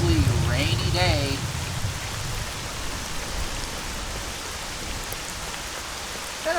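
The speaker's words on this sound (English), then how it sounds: "another drizzly, rainy day." Drizzly rain falls steadily in the video game S.T.A.L.K.E.R., a soft continuous hiss throughout, with a voice talking briefly at the start.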